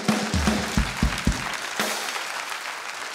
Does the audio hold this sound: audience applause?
yes